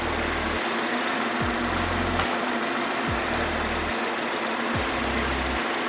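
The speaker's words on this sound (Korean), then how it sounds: "그리고 엔진 소리 일정하고 좋습니다." A BMW 520i engine idles steadily nearby, a smooth, even hum with a few faint clicks and shifts.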